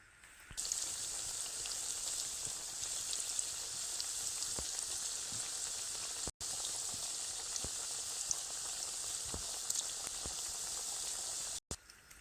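Cauliflower pakoras deep frying in hot oil, a loud, dense, continuous bubbling sizzle heard up close, briefly cut off twice.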